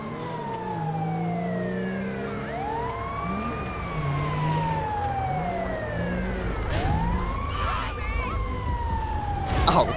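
An ambulance siren in GTA 5 wails in long rising and falling sweeps over a steady rumble of engine and traffic, loud and close throughout, ending with a short burst of noise.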